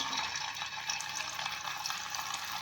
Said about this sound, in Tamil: மிதமான சூடு இருக்கும்போதே நம்ம கொஞ்சம் கொஞ்சமாக சிக்கன் போட்டு ஃப்ரை பண்ணி